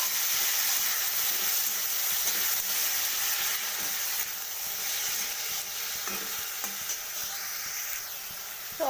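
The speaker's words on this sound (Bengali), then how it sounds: "তো তেলটা আমার চলেও এসেছে। তো সব সবজিগুলো আমি দিয়ে দিলাম।" Mixed vegetables frying in hot oil for dalia khichuri, a steady close sizzle with hissing steam running throughout, plus occasional stirring clatter and a brief scrape near the end.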